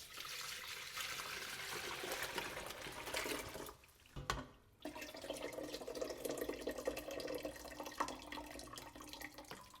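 Broth made with vegetables, dried mushrooms and onions is strained into a container. It sounds as a continuous pouring trickle with a brief break midway, then flows again, moderately quiet.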